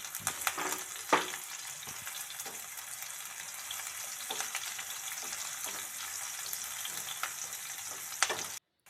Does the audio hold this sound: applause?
no